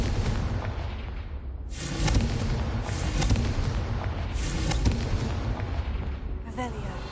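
A Confringo fire spell bursts in Hogwarts Legacy, a sustained run of heavy booming blasts and crackling detonations rolling across several seconds, loud and dense, with a brief sweeping whoosh near the end.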